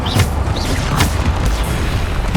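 A Bombarda explosion spell from the video game Hogwarts Legacy erupts in a loud, booming blast, with dense rumbling impact noise holding steady for a couple of seconds amid continuous game-combat sound.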